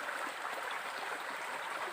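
Water poured onto a rock outdoors makes a steady hissing, splashing trickle, even and continuous throughout with no talk.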